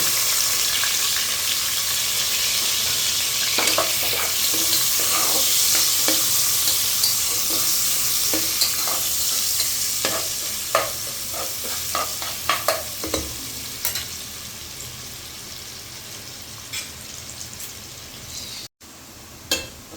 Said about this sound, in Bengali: আমি এখন খিচুড়ি রান্না করার জন্য পেঁয়াজগুলো দিয়ে দেবো পেঁয়াজগুলো ভেজে নেব